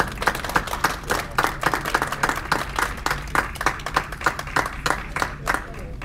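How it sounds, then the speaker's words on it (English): At a school board of education meeting, the room gives another round of applause: crisp, rapid handclaps repeat close and loud throughout, with no speech over them. "Another round of applause."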